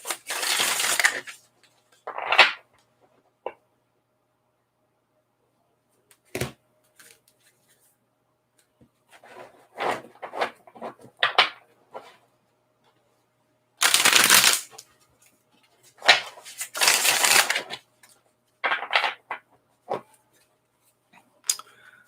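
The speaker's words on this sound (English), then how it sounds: "Give it a couple more shuffles." Cards are shuffled in several separate bursts of riffling and crisp papery rustling, close by, with quiet gaps between them.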